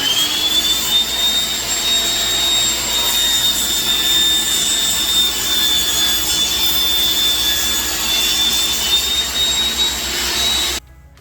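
A table saw cuts a wooden furniture leg guided by a taper jig, a loud steady high-pitched whine with gritty rasping of the blade through the wood, running continuously for about eleven seconds before cutting off abruptly.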